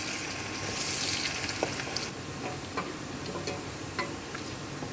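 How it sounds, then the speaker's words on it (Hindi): Chopped onion fries in a pan for a desi chicken dish, a steady soft sizzle with small scraping ticks from a spoon stirring through it, fairly faint and close, with no voices. "उसके बाद इसमें कटा हुआ प्याज है, थोड़ी देर इसको चलाते हुए लाल करेंगे"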